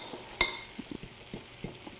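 Rice tossed in a pan with butter and lemon juice gives a soft, steady stir-and-sizzle with light scraping, one sharp clink of utensil on pan near the start and several gentle shuffles after, close and fairly quiet.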